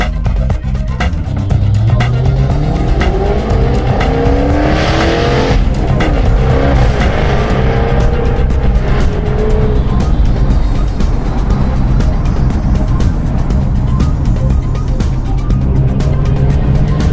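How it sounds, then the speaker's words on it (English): A loud car engine accelerates away, revs climbing through several gear changes with rising harmonic sweeps, steady rumble throughout and no talking. "I'll leave you with the sound of this car as I pull away from these lights"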